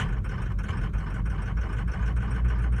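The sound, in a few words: car engine trying to idle up during a cold start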